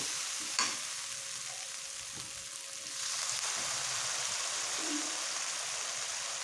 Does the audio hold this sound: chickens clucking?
no